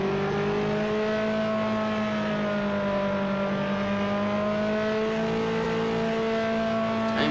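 A DeLorean drives in Roblox Jailbreak with a steady synthetic engine whine that holds a constant pitch at cruising speed, continuous and even throughout, with no talking.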